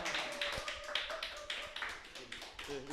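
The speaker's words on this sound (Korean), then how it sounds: "큰 박수 부탁드리겠습니다." A small lecture audience gives scattered, uneven applause, sparse individual claps sounding close and distinct rather than a dense roar, with a voice briefly heard.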